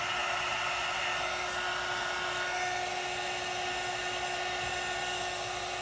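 A heat tool blows steadily for the whole stretch, drying paint on paper for a paper-smushing piece. The whir is loud and close, with a constant tone and no pauses and no talking.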